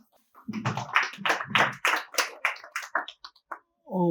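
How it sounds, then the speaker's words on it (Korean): Applause at a Korean seminar on integrated land and environmental planning welcomes the president of an environmental policy society to the podium, loud separate claps in a hall, followed briefly by a voice starting to speak. "큰 박수로 맞아주시기 바라겠습니다."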